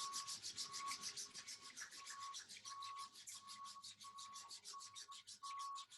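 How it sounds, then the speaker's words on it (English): Two hands rubbing briskly together during a qi gong morning routine, a continuous rhythmic swishing friction with no talking, close and soft. "And then rubbing the hands together."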